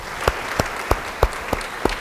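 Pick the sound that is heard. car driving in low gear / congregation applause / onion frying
congregation applause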